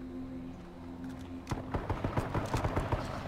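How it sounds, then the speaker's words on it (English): Rapid footsteps thud across a floor in the online shooter H1Z1, starting midway as a quick steady run over a continuous background drone, fairly close and moderately loud. "Can you guys hear my footsteps?"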